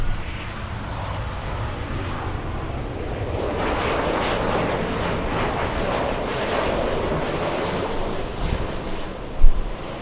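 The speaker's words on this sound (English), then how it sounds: "We have United Airlines 1252 flying in from Denver, Colorado." A United Airlines airliner on arrival at LAX from Denver roars overhead, a loud sustained broadband jet rumble that swells steadily and fills the whole stretch, close by with no talking.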